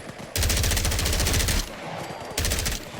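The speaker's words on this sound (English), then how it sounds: "My gunshots are super loud, though." Loud modded gunfire from a K-02 and Universelle pistol in Fallout 4, heard as two bursts of rapid, punchy shots close up, separated by a brief lull with a low rumble.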